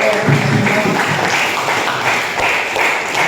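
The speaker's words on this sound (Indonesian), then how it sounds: "Tepuk tangan" Classroom applause from students after a lesson discussion, a steady dense patter of many hands clapping close by, holding an even level for a few seconds with faint voices mixed in.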